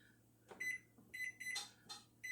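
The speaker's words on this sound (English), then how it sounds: "the microwave just went off." A microwave oven timer finishing its cycle, several short electronic beeps in an irregular pattern over a steady low hum, close by in a kitchen with no talking.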